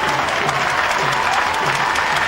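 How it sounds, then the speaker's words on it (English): A crowd applauds the Irish women's hockey team at a 1994 Women's Hockey World Cup match: loud, sustained clapping from a large crowd, heard close and continuous throughout. "The crowd rise to the performance of the Irish team."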